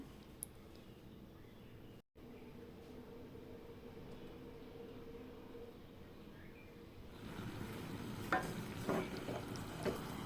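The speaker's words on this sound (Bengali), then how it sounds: "সামান্য নাড়িয়ে নিব।" Beef rezala stirred in a karai: a soft, low hiss of cooking, then louder scraping and a few sharp clicks of a spatula against the pan in the last few seconds.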